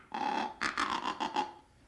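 A human voice imitates the low burring call of a diver duck such as a bluebill or canvasback, a short rolling purr repeated in a few quick pulses, close and clear with no other sound.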